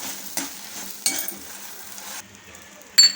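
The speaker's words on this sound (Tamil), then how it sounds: "மிளகாயோட இந்த மாதிரி உப்பு போட்டு வருத்திங்கன்னா மிளகா நெடி இடிக்காமல் இருக்கும்" Red chillies dry roasting with salt in a pan, with a low continuous rustle broken by occasional louder scrapes and stirs and a sharp clink of the utensil at the end, close up with no talk.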